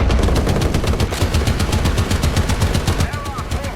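Tank guns fire in a video game with American and British tanks, a dense, continuous barrage of rapid gunfire shots that stays loud throughout with little pause.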